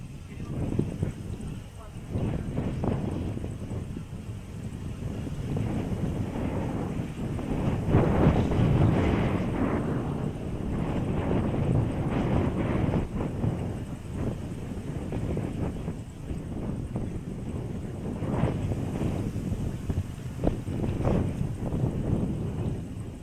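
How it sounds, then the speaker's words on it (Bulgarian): Wind blows outdoors at a fishing spot, buffeting the microphone in loud, surging gusts that rise and fall through the clip while someone talks. "Изобщо аз дойдох тук и видях, че има вятър."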